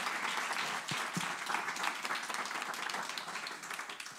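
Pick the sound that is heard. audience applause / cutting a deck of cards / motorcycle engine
audience applause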